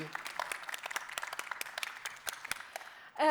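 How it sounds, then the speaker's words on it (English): Audience at a city summit session applauds steadily with dense overlapping claps, a moderate and fairly even round that ends abruptly with a brief louder sound at the close. "Ladies and gentlemen, can I have a round of applause?"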